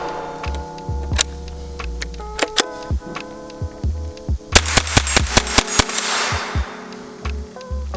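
A Henry AR-7 survival rifle emptied in a magazine dump: about seven sharp, loud shots fired outdoors, closely spaced at a fast, slightly uneven pace, each cracking hard and echoing briefly.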